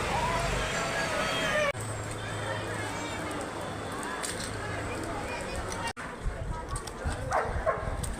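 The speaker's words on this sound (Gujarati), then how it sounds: "કૂતરા બધા ભૂખ્યા છે" Hungry street dogs being fed biscuits in flooded Vadodara bark and yip in short bursts amid a steady murmur of crowd noise and outdoor bustle.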